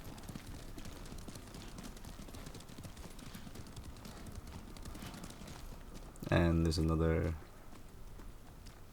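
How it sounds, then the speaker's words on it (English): A horse's hooves clop along at a steady pace in the video game Ghost of Tsushima, with someone talking over it and a brief louder rattling burst partway through. "You don't have to get off your horse here."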